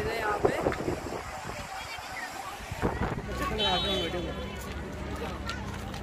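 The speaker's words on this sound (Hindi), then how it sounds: "हवा बहुत तेज है यहाँ पे।" Strong wind buffets the microphone at a lakeside viewpoint above Shahdra water lake near Islamabad, a steady rumbling gust noise with rushing water below, while someone talks over it throughout.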